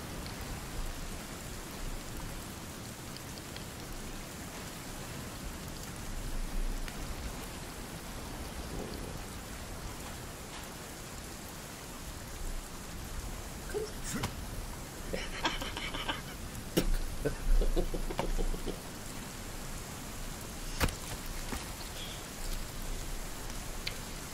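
Steady rain in the survival video game Sons of the Forest, a continuous broadband hiss of falling drops with a few sharper patters and a slight swell near the end, with no talking.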